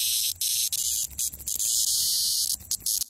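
A loud, steady high-pitched cicada drone, buzzing continuously with brief dips and swells, close and alone with no voices.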